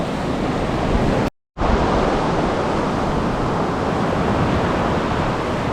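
Sea waves at Playa Coson beach in the Dominican Republic make a steady, loud roar of surf with constant wind rush, broken only by a brief total dropout before the wash resumes unchanged.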